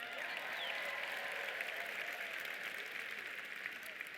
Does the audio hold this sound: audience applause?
yes